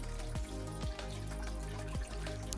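An aquarium filter runs in a newly set up plakat half moon betta tank with a 25-watt heater, a steady close trickle and hum of flowing water with a few soft drip-like plops.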